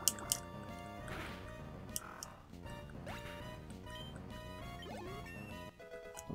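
A Water Gun attack in Pokemon Emerald: bubbly, splashing electronic effects over the game's looping chiptune battle music, moderately loud and with no talk.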